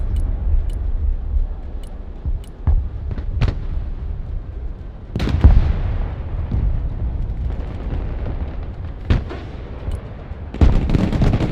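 Artillery fires in the real-time strategy war game Broken Arrow: loud, sharp booms and blasts arrive one after another at irregular intervals over a low rumbling battlefield background, with no talk.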